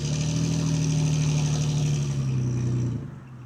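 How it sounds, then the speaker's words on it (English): A truck engine with a Magnaflow exhaust rumbles loud and close, a steady deep drone that holds for a few seconds before dropping off as the vehicle passes and fades away. "Here comes the Magnaflow finally."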